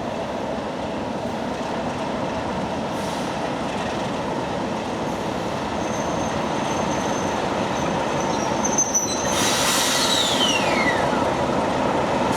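A Class 33 diesel locomotive hauling a train passes close by on a rural line, a steady loud rumble of wheels and engine with rising squealing metallic tones toward the end.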